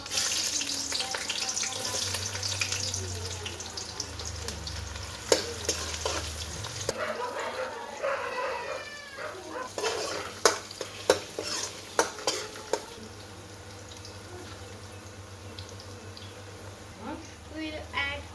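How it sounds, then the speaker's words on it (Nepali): Onions fry in hot oil in a wok for a Nepali-style mutton dish, bright crackling sizzle with scraping stirs and spoon clinks, close and steady throughout. "अब चाहिँ हामी प्याज फुलाउँछौँ।"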